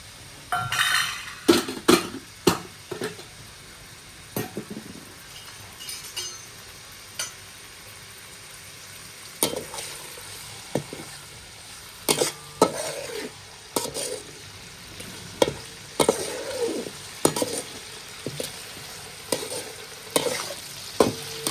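Tomatoes and green chilies fry in oil with a soft sizzle, broken by repeated sharp clinks and scrapes of a spoon against the pan, and no one speaking.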